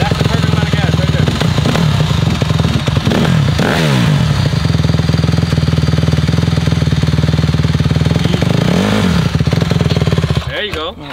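Dirt bike engine running loud and steady throughout, revving a couple of times as the rider gives it gas, with an instructor coaching nearby over the engine noise.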